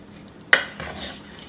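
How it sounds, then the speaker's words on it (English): Beans drop into a pot of Persian ghormeh sabzi stew with one sharp clattering splash, followed by a softer scrape and stirring rustle, close and brief. "So now I'm gonna add these beans here"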